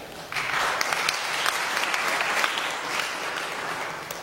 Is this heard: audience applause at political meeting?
yes